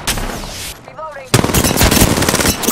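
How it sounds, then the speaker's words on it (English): Gunfire in the video game Pathfinder: a burst of automatic fire, a short lull with a brief tonal chirp, then a louder, denser stream of rapid shots close by. "I am taking fire, friends."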